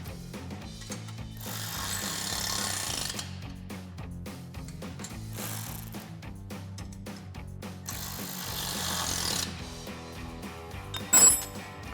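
A ratchet with a 13mm socket tightens bolts on a RAM 2500 bed rack, with rapid repeated metallic clicking in several bursts, close and fairly loud, ending with a sharper clunk.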